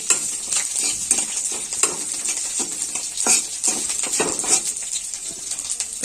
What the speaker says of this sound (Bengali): তো পেঁয়াজ ভাজা হয়ে গেছে